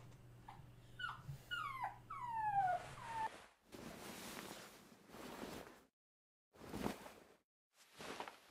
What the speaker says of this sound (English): I was trying to get the dog out from under the table